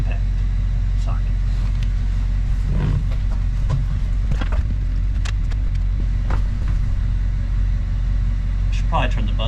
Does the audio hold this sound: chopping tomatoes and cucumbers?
no